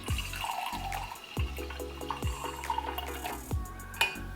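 Sweet red wine, a cheap bottle from a liquor store, poured into a glass: a close, gurgling liquid stream with clinks and splashes running steadily throughout.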